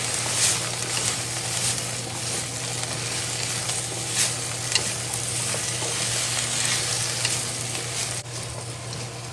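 Mustard greens frying in a pot with oyster sauce and black pepper, a steady close sizzle that crackles and hisses evenly, with faint stirring scrapes and no talk.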